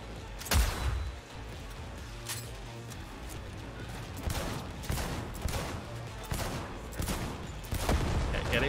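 Gunfire in Cyberpunk 2077, a string of sharp shots and bursts, some close and loud, others quicker and lighter, spread unevenly over a constant low background din.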